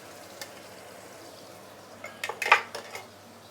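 Chili paste being stirred and slowly sautéed in a pan over medium-low heat, with quiet background and a cluster of utensil scrapes and clinks against the pan near the end.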